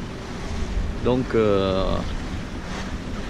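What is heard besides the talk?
strong wind and waves at sea off Cap Corse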